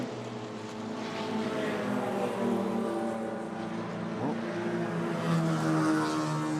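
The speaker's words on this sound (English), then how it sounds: "the 3 BMW turbos at the front of the field screen past the start-finish line" BMW turbo race cars scream past the start-finish line in a steady, loud engine drone with harmonic whine and a brief pitch sweep as one passes close.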